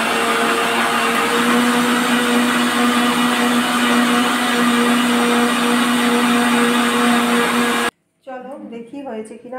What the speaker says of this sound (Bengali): চলো বেটে নেওয়া যাক।